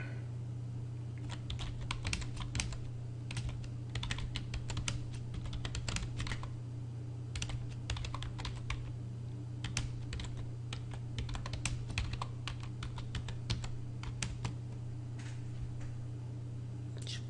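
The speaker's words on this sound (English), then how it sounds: "We're going to open memo and we'll type in a second line." Fingers type a line of text on a computer keyboard, a close, steady run of quick clicking keystrokes with brief pauses, heard alone over a low hum.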